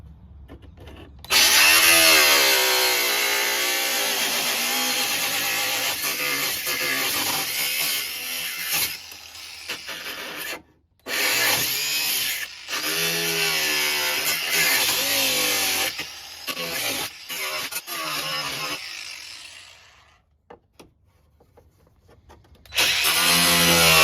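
A power tool cuts an opening for a light in the body of an EZGO TXT golf cart, loud and close with a high whine in several bursts separated by brief pauses, no voices.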